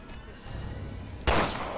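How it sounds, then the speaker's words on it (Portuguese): A single gunshot in the video game Resident Evil Revelations 2, a sharp loud burst near the end that trails off, preceded by quiet low game ambience. "São bem escassas e eu dou 3 tiros na parede."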